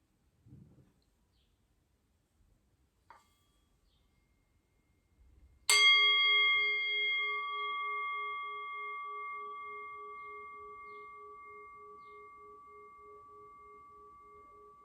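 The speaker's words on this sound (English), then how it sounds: "shift your awareness to your ears and the sound of the bell" A meditation bell is struck once after a few quiet seconds of near silence and a couple of faint taps. It rings out clear and bright, then fades slowly in a long, steady resonant decay.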